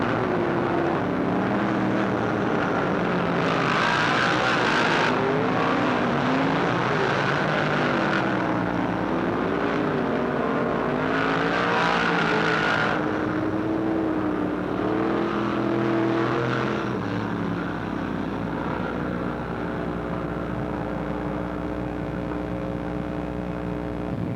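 Race cars at Lernerville Speedway roar through turns three and four on the final lap of the night's last race, a dense, loud engine drone with passing surges over a continuous rumble.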